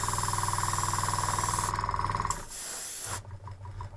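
Spray paint hisses steadily as a fine mist over OO gauge model wagons being weathered, a loud, close, pulsing spray that cuts out near the end.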